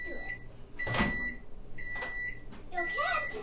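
A microwave oven hums steadily as it heats a cup of tea, with beeps and a door clunk around it, and people speaking nearby.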